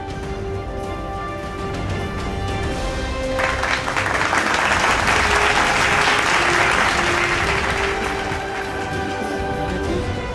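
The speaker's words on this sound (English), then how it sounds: "We have a huge round of applause, please," Broad, loud applause from an audience for an award winner at a ceremony, building and swelling to a dense roar before easing slightly, with music tones underneath.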